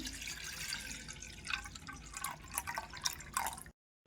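Water drips and trickles over washed dal in a pressure cooker, a quiet run of splashy drops with a few louder plops near the end before it stops abruptly.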